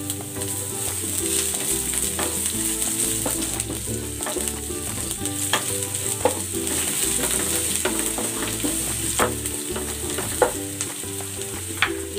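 Onion frying in a pan with garlic for an egg sarciado sauce, a steady bright sizzle with repeated scraping stirs and clinks of a utensil against the pan, no voices.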